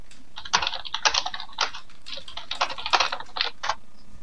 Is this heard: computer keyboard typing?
yes